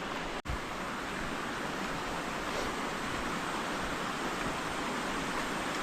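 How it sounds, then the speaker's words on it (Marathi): A river rushes nearby as a constant broadband roar of flowing water, steady throughout, with one brief dropout near the start and no talking. "इकडे नदी आहे बाजूला ह्याच नदीला जायचं आहे"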